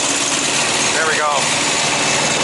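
A Thermo King APU engine on a truck runs close by with its belt spinning fast, a loud, constant mechanical drone with no change in pace.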